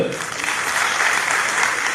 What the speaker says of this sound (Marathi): एका जोरदार टाळ्या होऊन जाऊ